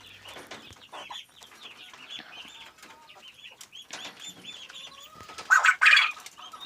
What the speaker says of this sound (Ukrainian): Півники співають.